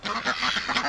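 Several ducks quack in quick, nasal bursts at close range, excited in a breeding flock kept at a duck hospital.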